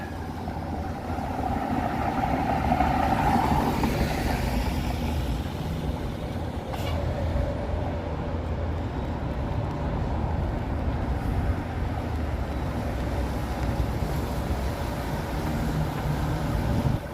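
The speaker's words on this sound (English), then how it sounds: "the cars sort of drown out the sound of the rain" Cars and trucks passing along a Toronto commercial street on a rainy evening, a steady wash of tire hiss and engine rumble swelling and fading, with a brief hiss like an air brake.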